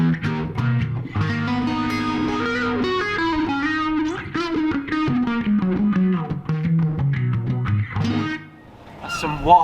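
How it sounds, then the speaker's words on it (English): A carbon fibre guitar run through a wah distortion effect while busking, a loud, gritty melodic line with sliding, vocal-like sweeps that plays continuously and drops briefly near the end. "That's some wah effect, wah distortion."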